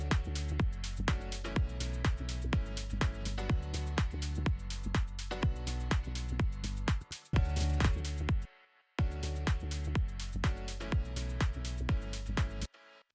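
A full music mix plays back with the master-bus compressor switched off, a steady driving beat of punchy drum hits and sustained tones, briefly cutting out near the end before resuming.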